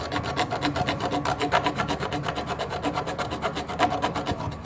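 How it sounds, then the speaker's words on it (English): A wooden stick is sawn with the small saw blade of a SOG multi-tool, giving quick, even rasping strokes in a steady back-and-forth rhythm, close up and alone. "we're gonna like saw some wood"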